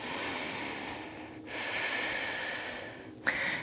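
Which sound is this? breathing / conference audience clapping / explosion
breathing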